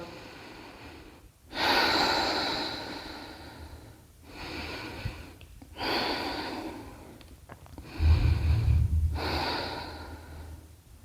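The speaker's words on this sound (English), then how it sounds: "One more deep breath in and out." Slow, deep yoga breaths drawn in and let out, several long inhales and exhales with soft pauses between, close and fairly quiet with no talking.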